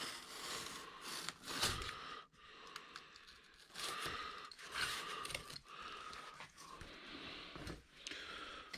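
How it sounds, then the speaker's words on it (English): An old cardboard box cut by hand with a blade: repeated rasping, tearing strokes close by, rising and falling in uneven bursts over several seconds, with no one speaking. "we're just going to take an old cardboard box here, nothing special, and we're going to cut it"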